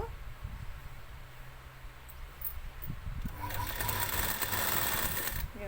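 A sewing machine stitches the lining of a silk saree blouse, starting faint and then running steadily and loudly close by in the second half, with a low hum underneath.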